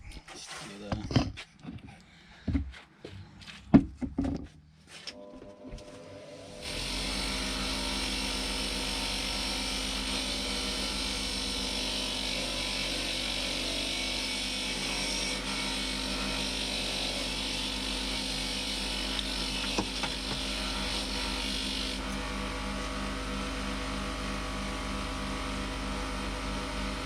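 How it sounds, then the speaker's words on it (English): A bench grinder spins up and runs steadily, grinding carbon buildup off an injector from a 2004 Iveco Daily 2.3; a loud, continuous whine and hum follows a few seconds of handling knocks before the motor starts, with speech-like noise mixed in. "all this little gunk here, carbon build up and that, I'm just going to get it off with a bench grinder"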